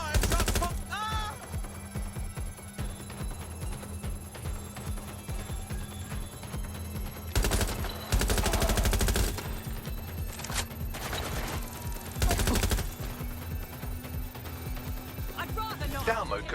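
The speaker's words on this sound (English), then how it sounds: "Shots fired! Shots fired!" Sharp gunshot bursts in Watch Dogs: Legion ring out intermittently over a steady game ambience, with a few loud volleys spaced several seconds apart.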